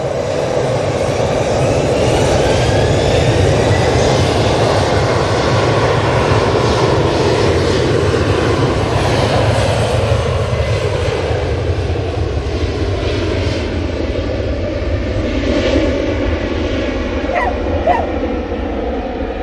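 A TAP airliner departs Manchester Airport bound for Lisbon, its jet engine roar steady and loud for the whole stretch, a broad rushing drone with a slowly shifting pitch that stays close and unbroken.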